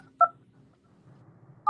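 Two short, loud telephone dialing tones, one near the start and one at the end, separated by a quiet gap with faint low background hum.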